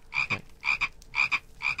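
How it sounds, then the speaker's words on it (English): Frogs croak in the Minecraft video game, four evenly spaced double-pulsed croaks repeating in a steady rhythm, clear and close with no talking. "I hear frogs everywhere, dude."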